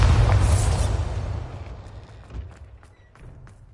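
A Bombarda explosion spell from Hogwarts Legacy goes off in a loud, deep boom that rumbles and gradually fades over a few seconds, with faint debris crackles trailing after.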